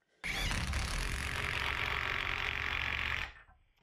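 Metabo HPT Hikoki WR36DB 36V cordless half-inch impact wrench tightening a fastener, one continuous loud rattling hammer burst of about three seconds that starts abruptly and cuts off, heard alone and close.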